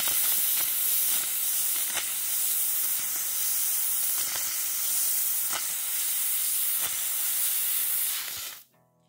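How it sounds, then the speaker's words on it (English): Water from a tap or spray rinses an opalized wood stone partway through polishing with cerium oxide, giving a steady close hiss for most of the run with faint knocks, then it cuts off abruptly near the end. "So I rinse off the stone as I'm working"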